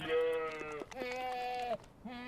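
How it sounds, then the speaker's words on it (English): Transgenic goats bleat in a run of close, wavering calls, one long quavering cry followed by shorter ones, with a faint overlap of animals. "Now, thanks to Randy, these goats have just a little bit of spider in them."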